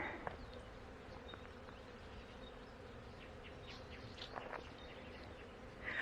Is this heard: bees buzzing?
yes